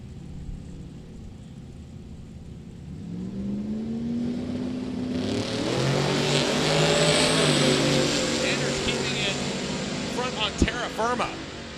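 A Chevette and a Monte Carlo drag racing down the strip at Sick Week 2023 in Gainesville, engines revving and building to a loud roar as the cars pass close by, with an announcer talking over the noise.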